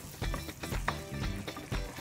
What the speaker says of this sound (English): you just want the curry paste to kind of sizzle and bloom away